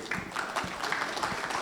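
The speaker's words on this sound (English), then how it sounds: "Please give him the biggest round of applause." Applause from a summit audience welcoming a company co-founder and CEO to the stage, a moderate, fairly distant patter of clapping that holds steady the whole time.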